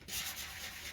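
A sanding block lightly rubs over stenciled wood on a DIY porch leaner, a steady, close, soft abrasive hiss lasting under a second with no voices.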